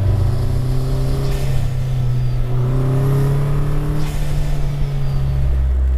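Engine of a 2019 Vanderhall Venice Speedster, a front-wheel-drive three-wheeler, droning steadily and close while driving, with pitch sweeps as it shifts through gears.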